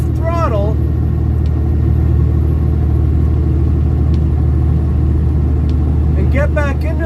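Car engine rumbling and revving while driving on a slippery snowy winter road, a steady loud low drone throughout with brief voices at the start and end.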